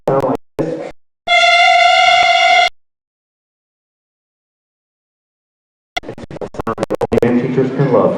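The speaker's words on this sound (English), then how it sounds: "The clarinets with their mouth and barrel sound like this." A clarinet played with only the mouthpiece and barrel attached squeals a single steady, shrill reedy tone for about a second and a half, preceded by short bursts and followed by a pause, then talking at a school band concert.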